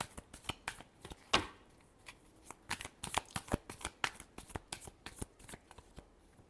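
Tarot cards being shuffled by hand, a rapid run of crisp riffling slaps and flutters at close range, with one louder burst near the start and a steady irregular patter after, no voice.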